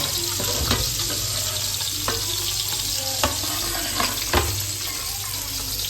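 Masala spices frying in oil in a pan for a South Indian fish curry, with a steady sizzle broken by a few sharp stirring clatters and scrapes, close up and alone with no talk.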